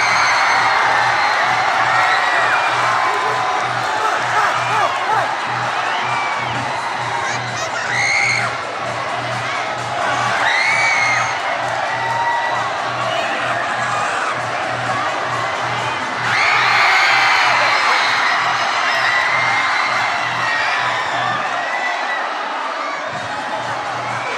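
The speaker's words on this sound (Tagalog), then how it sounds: "Grabe na ang hiyawan." A large crowd at a muse pageant cheers and shouts continuously, with high whoops and screams rising in waves over a dense roar of voices, loud and close throughout.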